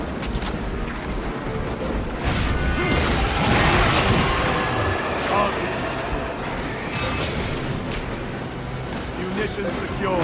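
Artillery bombardment in Warhammer 40K: Space Marine 2, a dense, continuous barrage of booms and crashing impacts that swells in the middle, with combat voices talking over the din.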